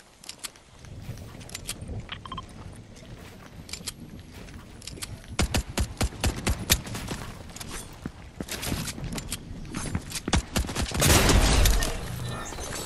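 Rapid bursts of video game gunfire crackle through a tense online shootout, with sharp shots clustering into dense volleys and a heavy, loud blast near the end, some brief voice chat faintly underneath.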